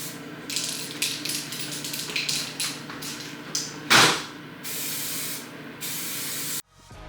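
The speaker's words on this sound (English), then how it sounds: "So I got a minute before I can actually spray paint." Several bursts of spray-gun hiss as 2K clear coat is sprayed onto a jet ski, short irregular passes followed by two longer steady sprays, close and fairly loud, then a cut to quieter room tone.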